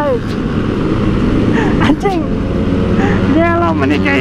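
A Honda Supra Fit motorcycle rides at night, its small engine droning steadily with a rise in pitch as it revs, close to the rider while a voice talks over the engine.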